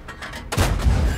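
Tank cannon shot in World of Tanks from a Hotchkiss EBR light tank, a sudden heavy boom with a rumbling tail after softer distant battle sounds.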